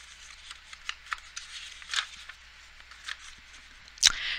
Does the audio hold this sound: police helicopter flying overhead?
no